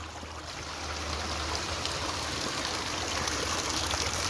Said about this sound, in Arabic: الماء جاي هابطه من الجبل هذا